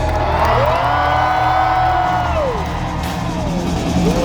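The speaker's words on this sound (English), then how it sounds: "And the crowd goes nuts!" Jousting tournament crowd of spectators cheering and whooping wildly in a sustained loud roar, with yells and rising shouts rolling across the stands.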